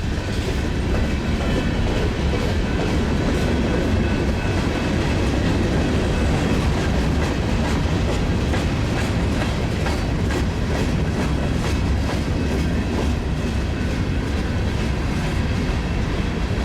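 A freight train of CNW coal cars rumbles past close by, loud and continuous, with a rhythmic clickety-clack of wheels over rail joints.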